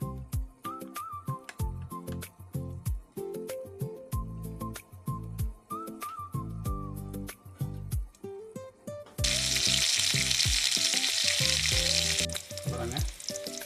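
Mushrooms cooking in butter in a pan. After a stretch of background music, a loud, dense hiss of frying takes over and runs steadily to the end.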